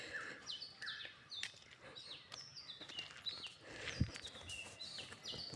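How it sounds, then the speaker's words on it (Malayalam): Several birds call and chirp from high in a treetop, bright repeated tweets scattered throughout, fairly clear with light outdoor background noise and a brief low thump near the end. "മരത്തിൻ്റെ മുകളിൽ നിന്ന് കിളികൾ കരയുന്നുണ്ട്."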